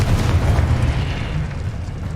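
A Confringo blasting spell explodes in a Harry Potter video game: a single deep, rumbling boom close up that rolls on as a low roar and slowly fades over about two seconds.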